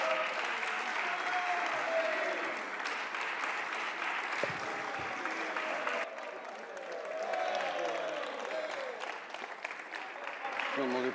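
Applause in the French parliament chamber, a sustained crowd clapping that swells and dips across several seconds, with speech mixed in and a brief dull thump partway through.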